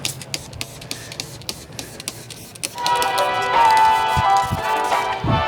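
Plasti Dip is sprayed onto a car wheel in a heavy, even coat, a close continuous aerosol hiss that starts after a few seconds of faint clicks and handling noise and runs steadily to the end.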